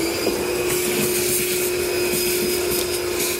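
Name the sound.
vacuuming drill shavings from truck bed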